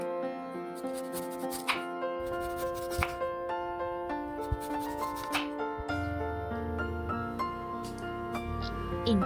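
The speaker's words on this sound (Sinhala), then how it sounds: "මුලින්ම අපි මඤ්ඤොක් කලය හොඳට පිරිසිදු කරගෙන තුනී පෙති වලට කපා ගන්න ඕනි" A knife slices cassava into thin pieces, making a series of irregular close taps and scrapes against a board, set over a background of sustained tonal music.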